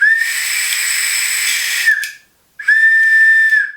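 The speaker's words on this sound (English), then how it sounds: "It doesn't exactly sound great, but it's dinosaur shaped, and when you blow into it, this like little wheel spins" A dinosaur-shaped toy whistle with a small spinning wheel is blown hard, giving a loud, breathy, steady whistle that stops briefly and then sounds again for about a second, with no talking.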